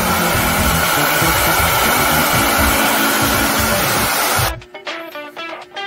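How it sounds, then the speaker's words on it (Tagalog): A blower drying sensitized screen-printing emulsion on a silk screen roars loudly and steadily like a hair dryer, then cuts off abruptly near the end, leaving quiet room sounds. "So gamit ang blower, patutuyin natin siya."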